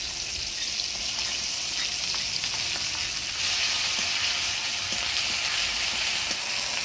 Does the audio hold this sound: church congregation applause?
no